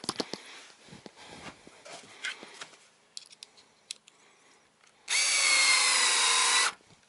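A power drill drives a screw to fix something in place in an underground dugout. Scattered handling clicks and knocks come first, then one loud, sustained whir of about a second and a half, close up.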